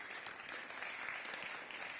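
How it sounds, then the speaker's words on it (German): Lecture-hall audience applauding after a talk, a steady crackle of many hands clapping at moderate distance for the whole stretch, no voices over it. "donnernder Applaus im Raum"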